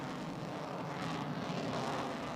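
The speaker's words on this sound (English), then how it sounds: "This is an F-18, the mainstay of the Navy." Navy F-18 jet aircraft producing a steady, loud broadband roar that holds evenly without breaks, heard alone with no talking.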